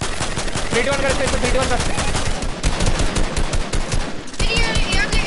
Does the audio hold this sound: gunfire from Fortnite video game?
yes